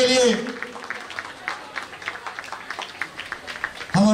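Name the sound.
applause for former headmaster Kamal Adhikary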